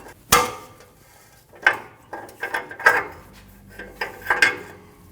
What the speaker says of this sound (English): You want to slide the socket over the sensor, turn to the left to remove it.